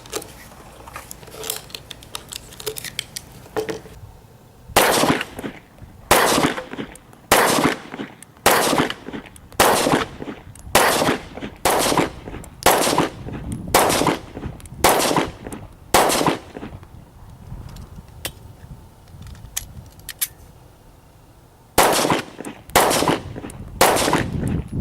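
A Beretta Nano pistol fires a long series of loud, sharp shots outdoors, spaced roughly a second apart in steady strings, with a short pause before a final few rounds.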